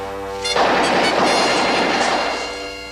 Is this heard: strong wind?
no